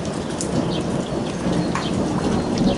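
Steady rain pours outdoors during a thunderstorm, with low rumbling thunder rolling underneath the continuous hiss of falling drops, fairly loud and close.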